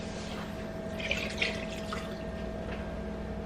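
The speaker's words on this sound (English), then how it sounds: "Now I'm gonna fill this up with some water." Tap water runs steadily into a cooking pot for homemade spaghetti sauce, a continuous close splashing stream with faint gurgles and drips throughout.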